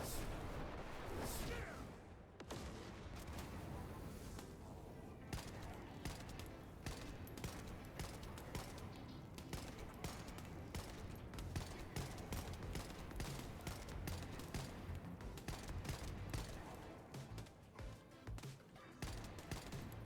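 Rapid sustained assault rifle fire from the video game The First Descendant, a dense rattle of shots continuing nearly nonstop for twenty seconds at low overall volume, with brief pauses between bursts.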